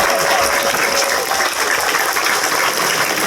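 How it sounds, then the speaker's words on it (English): An audience at the Furcation 2019 convention opening ceremony applauds volunteers with a dense, steady wash of clapping that fills the room from start to finish. "Can we just get a round of applause for these wonderful people here that have volunteered their time?"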